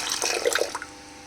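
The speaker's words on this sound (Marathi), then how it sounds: "आपण पाणी टाकूया थोडंसं" A short splash of water pours into a pot for under a second, then fades into quiet.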